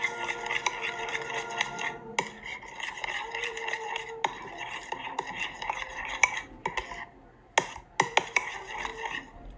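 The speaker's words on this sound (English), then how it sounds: "And I'm just gonna mix." A utensil stirring homemade mermaid slime mixed with confetti in a bowl, producing steady scraping and clinking strokes with several sharper taps, close and clear with no talking.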